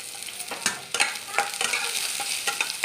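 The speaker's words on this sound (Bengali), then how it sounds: "পেঁয়াজগুলো লাল লাল করে ভেজে নিতে হবে।" Sliced onions and dried chillies frying in a little oil in a wok, stirred with regular scraping strokes over a steady sizzle, close and without voices.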